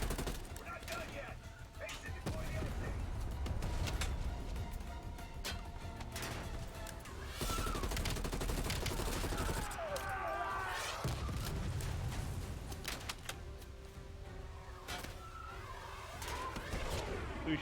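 Gunfire in the Call of Duty Black Ops Cold War campaign, dense bursts and explosions layered with game sound and music for most of the stretch, with talking mixed in.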